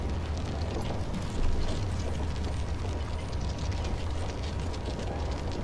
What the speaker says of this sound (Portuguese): Agora abrimos essa porta.